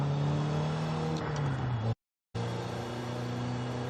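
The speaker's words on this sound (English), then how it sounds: "Hear that turbo blowing off a little bit?" Nissan Sentra Nismo with a built stock 1.6-litre turbo engine in Forza Horizon 5, droning steadily, then a brief hissy turbo blow-off as revs drop, a short silent gap, and the engine droning again.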